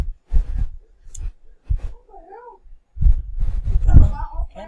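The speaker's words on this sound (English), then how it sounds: "She's a cat." A cat meows twice in short wavering cries between bursts of human talk, moderately loud and close, with speech and handling noises around it.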